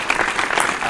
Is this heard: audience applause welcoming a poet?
yes